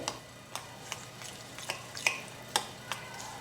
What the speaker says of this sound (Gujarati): હવે બધું સારી રીતે મિક્સ કરી લઈએ